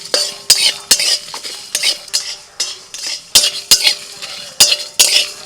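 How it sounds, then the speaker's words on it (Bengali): Whole dry spices (dried red chillies, coriander seeds, cumin, fennel, cardamom, cinnamon, cloves) being stirred in a pan while dry-roasting, with a spoon scraping and clinking against the metal in quick irregular strokes, close and fairly loud, with no talk. "সব মশলা একবারই দিয়ে দিলাম।"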